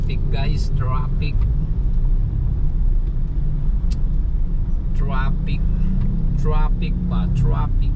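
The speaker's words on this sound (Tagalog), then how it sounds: "Traffic guys, traffic" Busy city road traffic at a rotonda in Manila hums with a steady low rumble of engines and passing vehicles, while voices talk over the noise.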